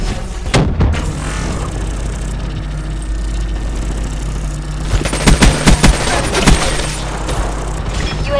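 Black Ops 3 PPSH submachine gun firing rapid bursts in hardcore team deathmatch, with short clusters of sharp shots over a steady background hum.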